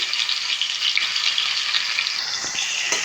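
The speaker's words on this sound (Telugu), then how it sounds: "ఆయిల్ వేడెక్కిందండి ఉల్లిపాయలు వేసేసుకొచ్చి" Onions frying in hot oil for a prawn, drumstick and egg tomato curry give off a steady, loud sizzle with faint stirring near the end. No one speaks.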